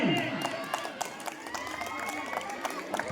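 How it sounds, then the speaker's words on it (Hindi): An outdoor crowd at a village sports and Johar festival gathering in Chhattisgarh claps in a steady, fairly quick rhythm, the sharp claps sitting under a loudspeaker announcer's continuous talk. "एक बार जोरदार ताली बजाएंगे, जोरदार ताली"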